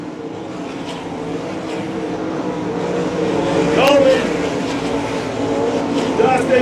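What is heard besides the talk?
sprint race cars racing on I-96 Speedway dirt track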